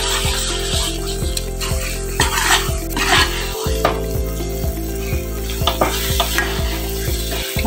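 Ghee khurchan mixture is stirred in a wok, with a spatula scraping the metal in a regular rhythm over a continuous sizzle and occasional sharper clanks.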